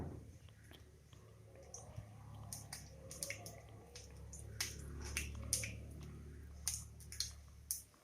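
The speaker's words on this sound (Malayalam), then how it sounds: "കുറച്ച് കടുകിട്ട് പൊട്ടിക്കുക" Mustard seeds splutter in hot oil for a Kerala fish chukka, giving sharp, irregular pops and crackles that come close together. A low background hum runs underneath, with faint murmuring in places.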